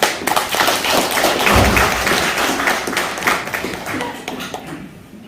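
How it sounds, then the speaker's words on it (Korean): Sustained clapping from a lecture audience, dense and fairly loud, with a low thump partway through, tapering off toward the end. "여러분 박수를 쳐서 많이 격려해 주시기 바랍니다"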